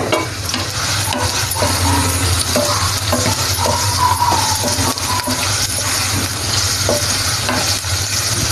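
Chopped onions and green chillies fry in a pan for a drumstick masala curry, giving a loud, steady sizzle that runs without a break, with faint stirring scrapes scattered on top.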